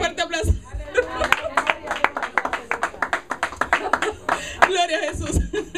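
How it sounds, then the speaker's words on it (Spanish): A church congregation claps loudly together during a Spanish-language sermon, a brisk crowd of hands with a few voices heard through it. "Dale un fuerte aplauso."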